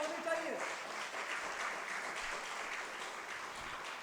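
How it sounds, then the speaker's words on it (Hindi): Listeners at a Hindi poetry gathering clap together in a sustained, moderately loud burst of applause, with a voice faintly mixed in beneath the clapping. "एक बार तालियां होनी चाहिए"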